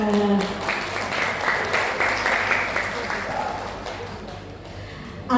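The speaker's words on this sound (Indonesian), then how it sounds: "mari kita beri tepuk tangan." A crowd of parents at a school parenting session claps together in warm, sustained applause, fading gradually toward the end before a voice returns.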